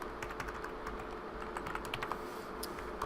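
Keys clack steadily on a computer keyboard as text is typed, in a quick run of light close taps over a low background hum.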